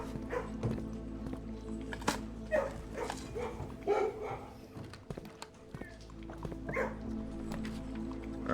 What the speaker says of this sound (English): And I also want to pet the dog.